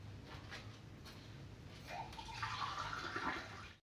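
Water is poured into gram flour in a bowl to make batter, producing a faint, soft trickling and splashing that swells toward the end and then stops abruptly.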